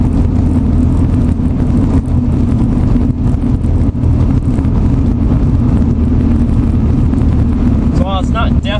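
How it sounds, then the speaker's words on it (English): A Nissan 240SX S14 cruising in fourth gear at about 40 mph fills the cabin with a loud, constant low engine and road drone, steady throughout with only slight fluctuations, with a faint voice-like chirp near the end. "I'm right now doing about 4th gear, 40 miles an hour, and this is kind of what the car sounds like."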